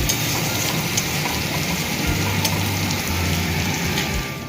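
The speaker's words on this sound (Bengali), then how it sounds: "সেই একই তেলের মধ্যে আমি দুটো বড় সাইজের পেঁয়াজ কুচি দিয়ে হালকা নরম হওয়া পর্যন্ত ভেজে নেব" Chopped onions, two large ones, frying in oil until soft make a dense, steady crackling sizzle at fairly loud level, like light rain, with occasional low stirring sounds and no talk.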